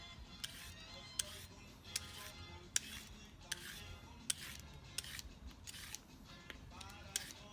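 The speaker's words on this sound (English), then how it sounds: "I'm gonna go ahead and peel the cucumbers." Cucumbers being peeled by hand, a steady series of short scraping strokes repeating about once a second, close and fairly quiet with a soft background hum.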